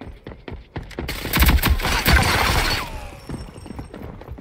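An auto pistol fires a rapid burst of close, sharp shots in Rogue Company, followed by clattering and shattering debris that fade into quieter game ambience.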